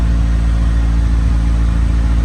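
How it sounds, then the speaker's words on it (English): A Ford 2.3L turbo engine in a 1932 Ford Roadster runs with a misfire, its steady loud low rumble holding close and uneven throughout, with no voices over it. "Turn it back on. Yeah, we just have like misfires."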